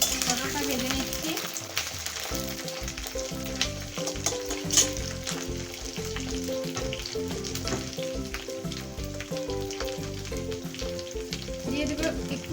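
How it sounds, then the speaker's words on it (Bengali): Pointed gourd pieces frying with reddish-browned onion for a Bengali pabda fish curry, giving a steady close sizzle alongside a constant tonal hum through the whole clip. "পটলটা ভেজে নিচ্ছি।"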